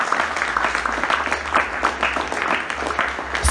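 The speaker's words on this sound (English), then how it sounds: "Can you clap to Jesus because you survived?" Church congregation clapping to Jesus during a Father's Day sermon, a lively, steady patter of hands from a crowd with a low hum underneath.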